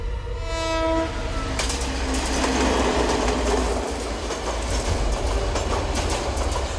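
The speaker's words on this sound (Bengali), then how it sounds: "আবার জামালপুর রেলপথের ট্রেন এলো এই লাইনে" A train horn blares briefly, then a train on the Jamalpur line rumbles past close by, its wheels clattering rhythmically over the rails.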